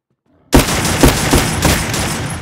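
Gunfire in an online video game clan war, a loud sustained burst of rapid shots starting abruptly after a moment of silence, with sharper individual cracks standing out in the barrage.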